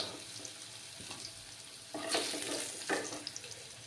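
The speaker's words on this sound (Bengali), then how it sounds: "আলুগুলো ভাজা হয়ে গেছে" Potatoes frying in oil in a pan give a soft, quiet sizzle, broken by a few louder scraping and clattering bursts partway through.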